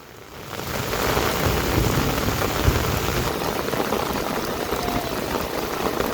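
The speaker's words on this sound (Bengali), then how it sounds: "সেই বৃষ্টি হচ্ছে" Heavy rain pours onto knee-deep floodwater during a storm while people fish, a dense steady patter and hiss that swells in quickly and holds loud throughout, with no voices.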